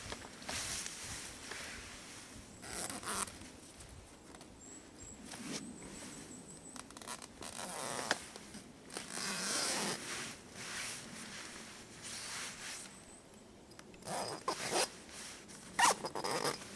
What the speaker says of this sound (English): I'll tell you what I could try now is to unzip it and get inside.